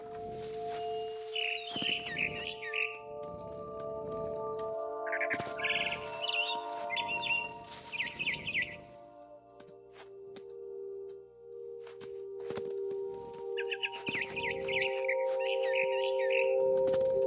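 Birds chirp in repeated short bursts of twittering calls in the video game What Remains of Edith Finch, fairly close, over a steady ambient hum with rustling and wing flutters.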